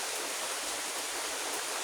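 Steady heavy rain pours down outside a house with a yard, a dense, even hiss that stays constant throughout with no voices.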